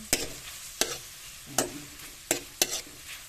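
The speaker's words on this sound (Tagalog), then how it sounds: "Halu-haluin lang natin" Grated radish salad is mixed by hand in a bowl for Filipino kilawing labanos. Five crisp, wet squelching pulses come at uneven intervals over a faint background, and there is no talking.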